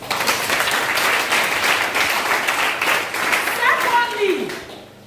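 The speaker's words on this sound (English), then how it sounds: "please give a round of applause" Audience applause at a community symposium on drug abuse prevention, a steady broad wash of many hands clapping that holds for most of the clip before tapering off at the end, with a voice briefly audible near the close.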